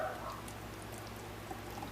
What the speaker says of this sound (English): I'm just going to go ahead and pour it